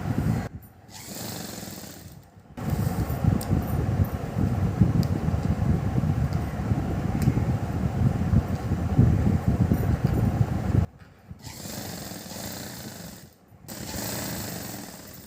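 A sewing machine stitches the armhole of a child's silk pavadai skirt in a steady, fast mechanical whir that runs loud and close for about eight seconds, with shorter bursts before and after brief pauses.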